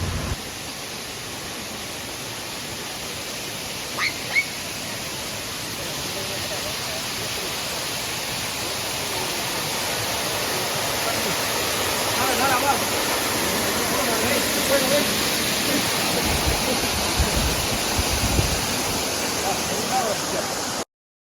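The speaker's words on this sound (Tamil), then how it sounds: "அப்படியே போனால் ஒரு ஆர்டிஃபிஷியல் ஃபால்ஸ் ஒன்று இருக்குதுங்க பக்கத்தில்." Loud, steady rush of water pouring down an artificial waterfall, continuous throughout, with faint voices mixed in the background.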